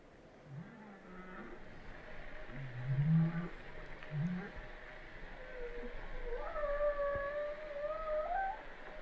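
Whale vocalizations drift through a low, moaning and gliding series of calls, some rising and falling in pitch, moderately loud over a soft hissing underwater background with no voices.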